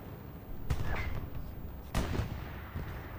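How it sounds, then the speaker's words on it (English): Distant blasts in a military video game, two muffled booms about a second apart with crackling tails, over faint background rumble. "I think I just saw the explosion in the distance of a rather important vehicle"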